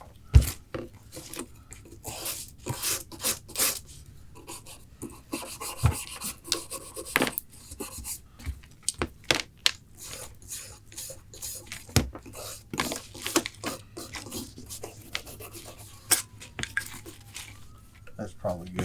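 Scrubbing a grimy AR-15 rifle part clean, a steady rasping brush rub with irregular strokes and occasional knocks, close and moderately loud, with talk now and then.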